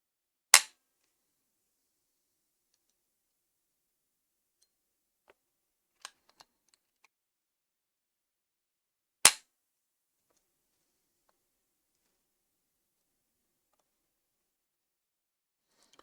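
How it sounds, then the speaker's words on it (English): A brand-new airsoft trigger is dry-fired twice, giving two sharp, isolated snaps several seconds apart with faint clicks of handling between them in an otherwise quiet room. "this is a brand new trigger, so it's normal that some parts wear in the first few shots."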